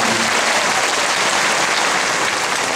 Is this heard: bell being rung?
no